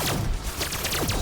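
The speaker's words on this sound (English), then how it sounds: "It's laser cannons." Laser cannons firing in the sci-fi strategy video game Age of Wonders: Planetfall, a dense burst of overlapping zapping shots with rapid sweeping tones over a steady rumbling battle bed, loud and continuous.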